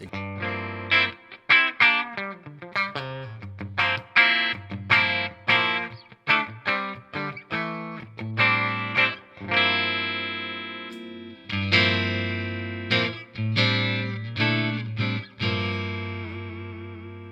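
Distorted electric guitar, an Eastman Fullertone, played through effects pedals, a run of chords and riffs with hard attacks and short pauses, loud and close, no talking.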